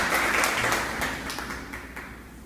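Congregation applause inside a church during a Catholic seminary service, a dense burst of many clapping hands that gradually thins and softens over a couple of seconds.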